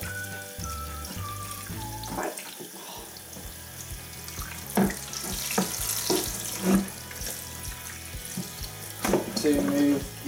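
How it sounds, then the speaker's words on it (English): Hot water runs from a tap into a sink while a washing machine's detergent drawer is cleaned, a steady splashing stream with irregular knocks and clatters of handling, fairly quiet. "to remove everything without using actual detergent, is just to run the hot water"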